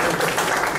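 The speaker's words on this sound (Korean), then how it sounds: "다시 한번 힘찬 응원의 박수 부탁드립니다" An audience at a lecture gives a short, loud burst of supportive applause, dense overlapping claps filling the room with no pauses.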